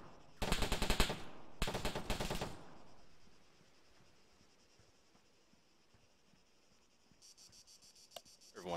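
Two bursts of rapid automatic gunfire ring out in the Squad military shooter, the first from about half a second to one second and the second just before three seconds. A faint ambient hum and distant ticking follow.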